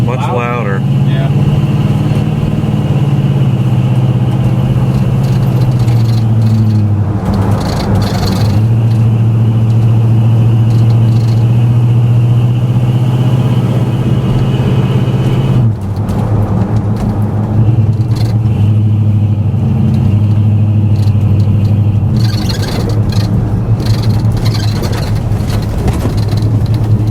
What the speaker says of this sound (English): That exhaust back there? Much louder.